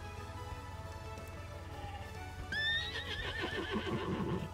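Horse whinnying and clip-clopping hooves in the Star Stable Online game, a Finnish horse breed: a steady hoof rhythm under faint ambient music, then a loud, quavering whinny in the last two seconds with hooves continuing beneath.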